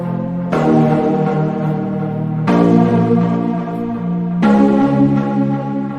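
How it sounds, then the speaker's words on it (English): Two synths layered in a deep house breakdown, one sustaining held notes while chords restrike roughly every two seconds, full and loud with no drums or voices. "A couple of synths here which sound like this together in the breakdown"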